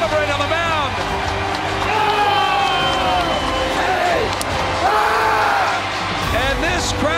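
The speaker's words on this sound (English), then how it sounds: "And this crowd can celebrate as the Phillies' season will continue." Ballpark crowd roaring and cheering as the Phillies clinch a playoff series win over the Cardinals, a steady loud wall of noise throughout, with an announcer talking over it.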